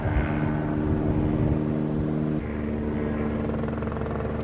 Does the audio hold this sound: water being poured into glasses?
no